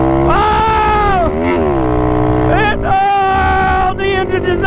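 An Apollo 125 RFZ Chinese dirt bike engine screams through loud, rising and falling revs during a race against a Yamaha Raptor 90 quad, strained and close, with excited shouting mixed in.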